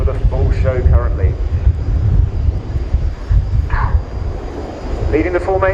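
Royal Air Force Red Arrows jets fly a display at RIAT, their steady roar rushing and swelling through wind buffeting, heard under continuous commentary from an announcer.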